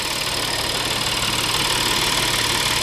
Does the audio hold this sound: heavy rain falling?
no